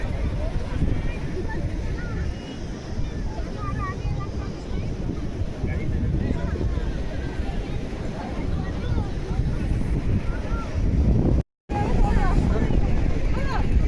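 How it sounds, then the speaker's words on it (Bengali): Sea wind and waves on the beach at Bakkhali, a steady, loud broadband roar of wind buffeting with surf beneath, continuous throughout with one brief dropout near the end. "এই হাওয়া, এই সমুদ্রের আওয়াজ এত সুন্দর"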